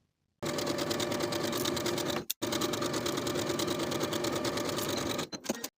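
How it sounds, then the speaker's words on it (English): Seams on a women's top made from fabric scraps are sewn on a sewing machine, a close, steady mechanical whir in two long continuous runs split by a brief stop, ending in a few short stitches, with no talking. "Sew both side seams and both shoulder seams with a 5/8 inch seam allowance"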